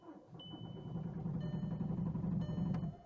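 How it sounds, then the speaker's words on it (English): A 2006 diesel VW Jetta TDI with about 295k on it cranks in a cold start attempt at minus 15 degrees, a steady close churning engine drone that holds for a few seconds without clearly catching. "we're gonna try a little cold start on my Jetta here"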